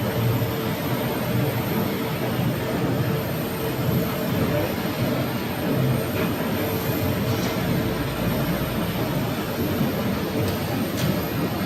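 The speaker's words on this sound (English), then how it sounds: "this A321 is flight 1218 from Washington, D.C., Reagan National" An Airbus A321 jet taxis toward the gate at Phoenix airport, making a steady, continuous engine roar with broadband rumble throughout and no talking.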